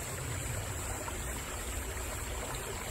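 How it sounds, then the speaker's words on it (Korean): A clear mountain stream in rural Hoengseong countryside flows steadily, a continuous broadband rush of water with no breaks, moderately loud and close, with no voices. "아주 맑은 개울이 흐르고 있죠"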